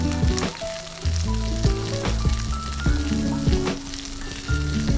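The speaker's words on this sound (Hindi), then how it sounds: "I have some quartered onions. And I'm just gonna toss it around." Quartered onions and colored peppers sizzle loudly in a hot pan as they are tossed, a steady close frying hiss with brief bursts from the tossing and a tonal hum underneath.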